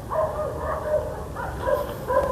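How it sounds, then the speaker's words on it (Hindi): Dogs bark outside at night, several short yelping barks repeating at a moderate distance over a low background rumble. "कुत्ते भी भौंक रहे।"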